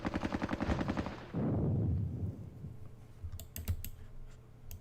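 Rapid crackling bursts of small-arms fire in John Tiller's Squad Battles Vietnam, played as Australian forces, give way to a heavy low rumbling blast, followed by scattered sharp shots fading out.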